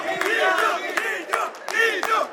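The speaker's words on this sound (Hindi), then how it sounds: "जीजा जी के लिए जोरदार तालियां" Crowd at a sangeet wedding celebration cheering and shouting loudly, with bursts of whoops and voices repeating in quick succession, close and energetic, with no clear clapping.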